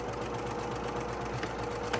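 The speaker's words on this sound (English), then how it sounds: "you're just gonna go forward a couple stitches, go back a couple stitches just to secure your stitch" A sewing machine stitches ribbon trim onto a tutu, running in a steady, continuous whir with a rapid even needle rhythm, close and fairly loud throughout with no talking.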